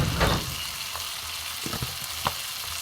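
Tomato fries in a pan with turmeric, a steady bright sizzle with an early burst and a few scraping stirs of a spoon against the pan.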